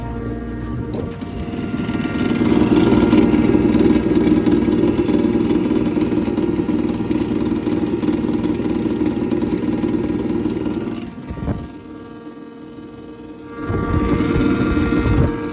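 An exhaust hood fan motor whose breaker won't reset runs with a steady mechanical hum, cutting out briefly near the end before droning back up again.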